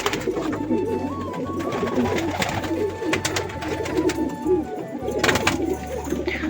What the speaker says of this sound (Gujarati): બધા કબૂતર આપણે પુરાઈ ગયા